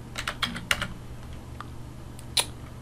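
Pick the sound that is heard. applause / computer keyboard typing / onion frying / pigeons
computer keyboard typing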